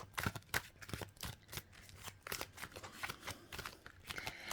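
Soft rapid riffling and papery flicks, like a deck of cards being shuffled up close, in quiet irregular bursts.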